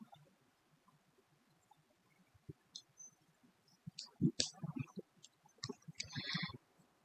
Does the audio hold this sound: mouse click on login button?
yes